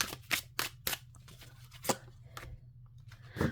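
Tarot cards shuffled by hand nearby, sharp uneven snaps and riffles arriving in quick bursts, separated by short near-silent pauses.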